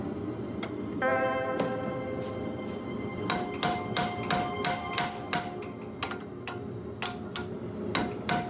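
Hammer blows forging a steel integral guard Bowie knife, sharp ringing metallic strikes in irregular bursts, several quick clusters of hits against a steady shop background.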